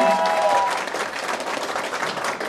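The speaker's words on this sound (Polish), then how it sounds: "Pięknie, brawa, dziękujemy." Audience applause at a regional beauty pageant, a full steady round of clapping from a crowd, louder at the start and then settling, with a brief tonal sound early on.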